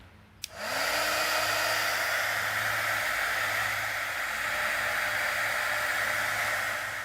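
A heat gun blows a steady, loud hissing airflow over a Cadillac grill emblem, starting with a click and spin-up, then holding an even roar for several seconds without speech.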